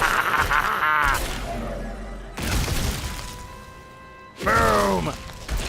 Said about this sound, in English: Oh, so satisfying, that corpse explosion.